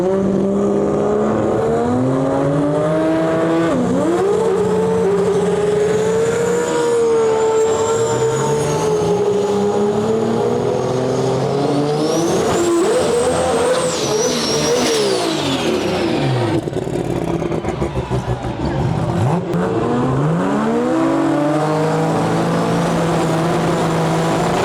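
Drag racing cars scream down the track at a qualifying event, a loud roaring engine note sweeping up and down in pitch as they accelerate past, joined by whistling high tones, continuous throughout.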